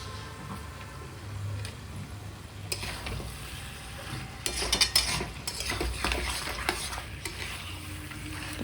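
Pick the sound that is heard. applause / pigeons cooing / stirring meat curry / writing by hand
stirring meat curry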